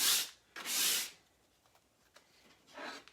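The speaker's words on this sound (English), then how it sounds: "I'm just going to run the sandpaper on it just a little bit. Just to kind of age it, scratch it up a little bit." Sandpaper rubs a wooden bunny cut-out to age and scratch it, three close, brief rasping strokes separated by quiet pauses holding faint small ticks.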